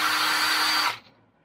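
A drilling machine spins wires clamped in a vise to twist them, giving a steady, loud, high whirring buzz close up that cuts off abruptly after about a second and winds down into quiet.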